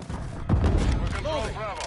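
Gunfire in Modern Warfare 3, a heavy booming shot followed by rattling fire during an objective capture, with a voice and radio-style chatter over the shooting.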